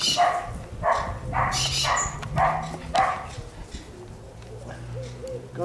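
A collie barks in a quick series of sharp, fairly close barks while playing fetch outdoors, with birds cooing faintly in the background.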